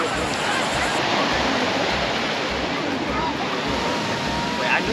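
Sea waves wash onto Los Cristianos beach as a steady hiss of surf at moderate volume, with a soft, continuous wash of water and faint wind and no clear breaks between waves.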